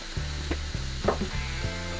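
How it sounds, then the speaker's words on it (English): Sliced green peppers and onions sizzle on a hot steel plancha, a steady close frying hiss broken by a few sharp clinks and scrapes of a spatula turning the food. "it's time to put on your sliced green peppers and onions"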